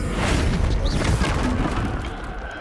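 A Confringo spell bursts in Hogwarts Legacy, a deep booming blast that decays over a couple of seconds amid game ambience.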